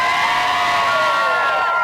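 Outdoor crowd at Albert Dock in Liverpool cheering and whooping steadily, a dense roar of many voices with high shouts mixed in, loud and continuous throughout.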